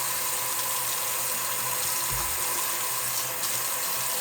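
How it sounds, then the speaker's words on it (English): Tap water running into a sink while a face is washed by hand, a steady close hiss of flowing water with a brief low splash partway through. "I just use my hands when I wash my face."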